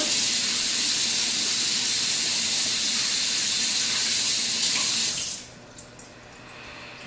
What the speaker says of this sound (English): So the next thing that goes in here will be a can of artichokes. So I'm just going to drain them and rinse them real quick